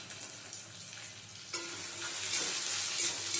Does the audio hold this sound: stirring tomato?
yes